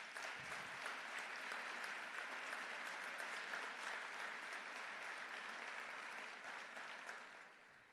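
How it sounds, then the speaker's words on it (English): A roomful of people applauds at a memorial breakfast honoring Martin Luther King Jr., acknowledging the planning committee; steady, dense clapping holds for several seconds before tapering slightly at the end. "please give them a round of applause"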